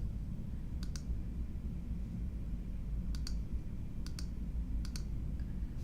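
A computer mouse clicks while property lines are drawn in mapping software. The clicks come in quick double pairs, soft and close, over a steady low background hum.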